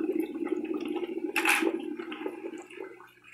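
Air bubbling out of a plain hose submerged in a water bucket, a continuous gurgling, burbling churn with a brief louder splashy surge midway, close and steady before fading slightly.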